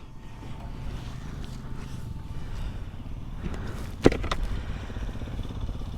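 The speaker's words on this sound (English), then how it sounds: "So that's Guhan on his bike." Guhan, a subscriber on a group ride, is on his motorcycle: a steady low engine rumble runs throughout with some wind noise, broken by a single sharp click about two-thirds of the way in.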